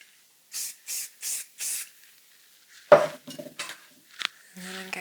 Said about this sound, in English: Spray that hair with a bit of hairspray.